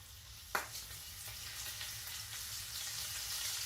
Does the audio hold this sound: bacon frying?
yes